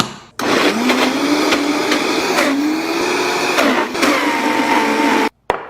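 A blender runs loud and close, whirring through squash and chickpeas for hummus, its motor pitch wavering as the thick mix churns, then cutting off near the end with a brief restart.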